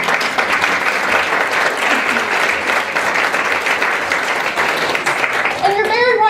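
Audience applause fills the hall as a team stands to face the crowd at a tourism forum, steady dense clapping throughout, with a brief burst of whistles or cheers near the end.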